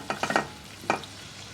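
Mushrooms stirred in a pan with garlic powder, a quick cluster of three or four scraping stir strokes followed by one more, over a faint low sizzle, close and quiet.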